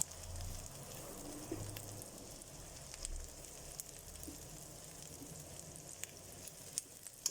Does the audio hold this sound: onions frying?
yes